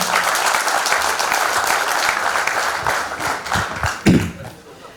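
An audience at a school reunion gives loud, sustained applause, dense clapping that tapers off near the end.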